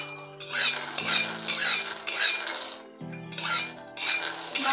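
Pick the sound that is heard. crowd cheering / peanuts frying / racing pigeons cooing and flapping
peanuts frying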